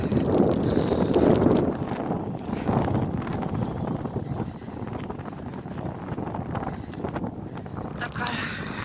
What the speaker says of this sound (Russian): Ветер, конечно, ужасный.